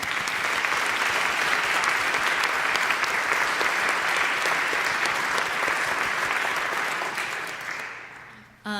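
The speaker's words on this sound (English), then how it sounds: "So even though they both had moments of applause, I would like to honor both of them with one more." An audience at a church congregational meeting gives a sustained round of applause, even and dense, fading out near the end as a voice begins.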